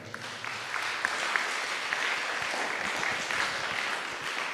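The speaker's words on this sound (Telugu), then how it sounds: "కావలసిన వాళ్ళందరూ గట్టిగా చప్పట్లు కొడతారా?" A church congregation claps loudly and continuously at a worship service, a dense, sustained round of applause with no speech over it.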